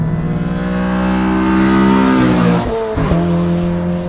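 A 2015 Honda Civic Si with bolt-on modifications revs hard while driving, its engine note climbing steadily before a quick shift dip and pulling again, loud and close.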